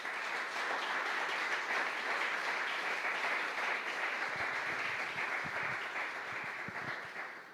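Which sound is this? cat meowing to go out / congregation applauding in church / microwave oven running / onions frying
congregation applauding in church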